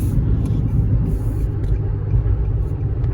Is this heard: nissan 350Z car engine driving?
yes